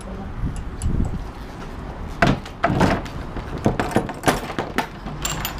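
Doors being shut up after loading roll cages at night, giving a series of sharp bangs and rattling knocks spread over several seconds, fairly close and loud, with no talking.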